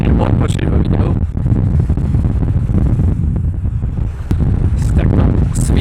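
Strong sea wind buffets a camera microphone on a beach in Hurghada, Egypt, a loud continuous low roar with gusty rumble, while a person talks over it.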